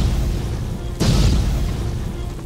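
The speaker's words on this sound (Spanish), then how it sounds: "la explosión dejó un gran desastre a su alrededor, hasta que Tony llega" A sudden deep boom erupts, then a rumbling, hissing wash of noise lingers and slowly fades against a dense background.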